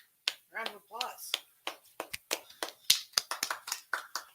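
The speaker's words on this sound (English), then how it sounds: "Round of applause." Sharp, scattered hand snaps or claps ring out in a quick uneven run after a short stretch of talk, a small close-up round of applause in a podcast chat.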